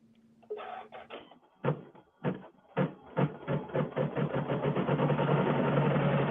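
A Janome CM17 sewing machine stitching a tack-down on appliqué, starting with separate mechanical thumps that quicken into a steady, continuous whirring run, close and moderately loud.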